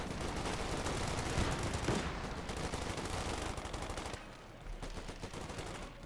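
Rapid sustained machine gun fire in a Company of Heroes-style real-time strategy match, dense bursts of overlapping gunshots, loud and continuous, easing slightly toward the end.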